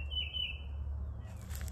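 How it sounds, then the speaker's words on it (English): Small birds chirp close by, repeating a thin, high call over a low steady hum. "These birds are always talking to me."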